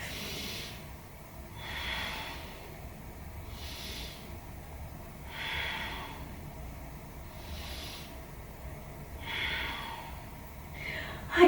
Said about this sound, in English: let's take 3 big breaths into our back